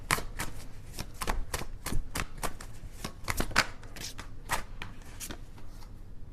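Tarot cards are shuffled up close in a quick series of crisp riffling and slapping bursts, repeating steadily with no talk.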